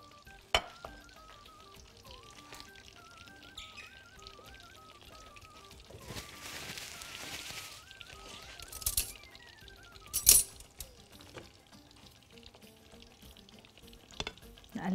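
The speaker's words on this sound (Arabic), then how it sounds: "يتقلي في الزيت" Butter and oil sizzling together in a pan, about a cup of oil with two cubes of butter, a continuous crackling fry with occasional stirring scrapes and a couple of sharp metallic clinks.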